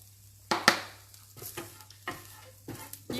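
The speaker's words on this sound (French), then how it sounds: "Alors, je mets mes oignons." Onions going into a hot pan for a spinach ricotta quiche, with several scraping stirs and clatters of a utensil over a low hiss, the loudest right at the start.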